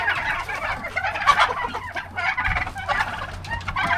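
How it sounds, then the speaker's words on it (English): A farmyard turkey tom gobbles repeatedly among other fowl. The bursts are loud and close, with a busy background of clucking birds and no talking. "my experience with turkeys, no, I think that's a tom."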